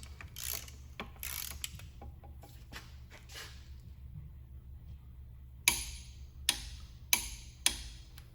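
A ratchet clicks in bursts while tightening a bolt to 65 foot-pounds on an engine's pump, with soft ticking passes followed by four sharp, loud clacks close by.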